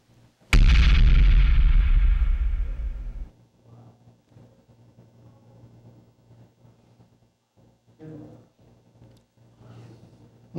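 Explosion sound effect played on a radio show, a sudden loud blast with a deep rumbling tail that holds for about three seconds and then cuts off abruptly, followed by quieter murmurs and room noise.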